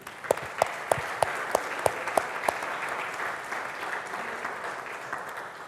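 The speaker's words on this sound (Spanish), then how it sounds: "Vamos a darle un fuerte aplauso a Dios." A church congregation at a Spanish-language service applauds, opening with a run of loud rhythmic unison claps before settling into a sustained, softer wash of scattered clapping.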